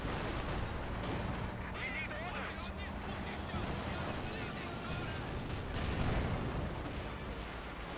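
A 6-pounder anti-tank gun and other artillery firing in a Company of Heroes 2 match, distant booms and bursts of gunfire in a dense battle mix under continuous commentary.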